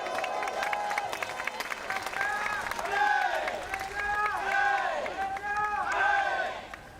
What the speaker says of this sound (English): All three cheers for the Malaysians from their supporters in behind the rink.